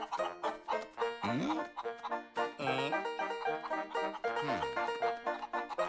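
Several cartoon chickens cluck and squawk in quick, irregular bursts, a busy flock sound with rising and falling calls.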